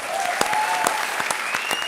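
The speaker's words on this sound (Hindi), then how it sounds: "जोरदार तालियां।" Studio audience at a Hindi comedy show applauds steadily, dense clapping filling the room throughout with a few sharper individual claps standing out, with no talk over it.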